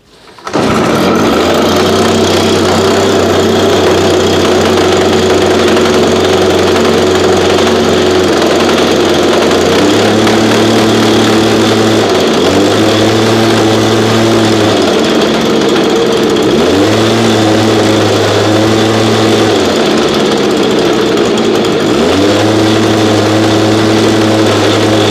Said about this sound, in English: You heard those blown bearings though?